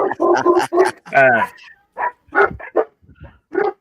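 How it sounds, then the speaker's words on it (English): Dogs bark in short, sharp bursts close by, mixed with someone talking over them during a live stream. "Them silly dogs."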